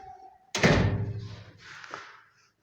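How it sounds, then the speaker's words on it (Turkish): A door swinging shut with a solid thunk at an earthquake relief aid centre, one loud close followed by a short rattle and a fainter knock as it settles, with no talk over it. "şu kapıyı kapatayım"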